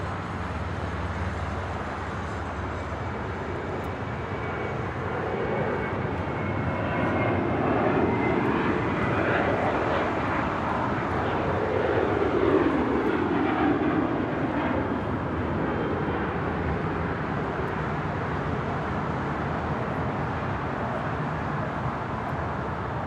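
A United airliner rolls for takeoff on runway 25 right at Los Angeles International Airport, its jet engines roaring and building to a broad peak midway before easing into a steady distant rumble.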